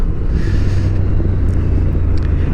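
A 2023 Honda XL750 Transalp motorcycle ridden along twisty roads, a loud continuous low engine rumble mixed with wind buffeting on the microphone, steady with no pauses.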